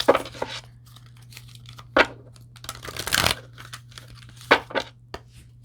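Tarot cards are shuffled in several short, crisp bursts separated by pauses, close and fairly loud over a low steady hum.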